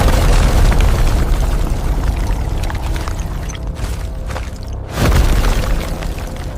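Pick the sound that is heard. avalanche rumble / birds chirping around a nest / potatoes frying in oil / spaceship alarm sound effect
avalanche rumble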